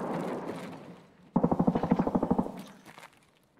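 Automatic gunfire rips through a multiplayer shooter match with grenades in play: a sharp, close burst of about a dozen rapid shots follows a fainter, rumbling stretch, then trails off into quiet, with no talking.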